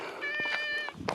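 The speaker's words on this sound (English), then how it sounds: "Cat." Cat meowing outdoors on a hillside path, a single drawn-out, tonal meow close by, fairly quiet, with faint rustling around it.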